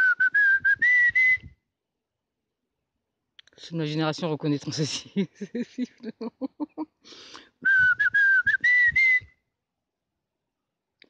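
Two rising whistle blasts, loud and close, open and close the clip, with a burst of rapid clicking and a brief voice in the gap between them.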